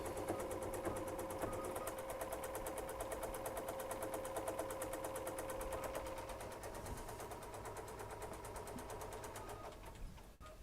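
An embroidery machine stitching through fabric tacked over quilt batting, giving a steady, close, continuous mechanical whir with a rapid needle rhythm that runs evenly throughout and ends abruptly.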